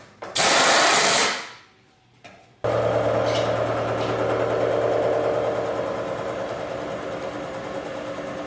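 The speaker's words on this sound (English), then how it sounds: "I think I'll probably just use the face cutter here." A face cutter mills metal on a machine, starting with a short, loud whirring burst. After a pause, a steady, droning cut runs continuously and gradually eases slightly in volume.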